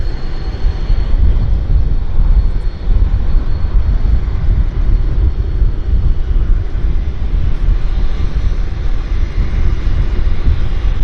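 A jet airliner departs Vancouver Airport on runway 26 left on a June morning, its engine roar a steady, broad rumble that holds loud and even throughout, with wind buffeting the microphone.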